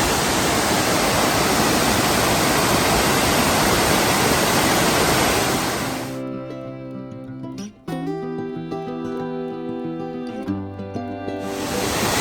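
Cascade Falls, a waterfall in Virginia's Jefferson National Forest, roars as a loud, steady broadband rush for about six seconds, then drops away to quieter sound with tonal notes before the rush of water swells back in at the end.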